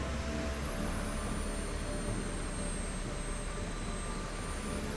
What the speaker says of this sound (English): I'm just gonna straight up launch this thing, full flaps,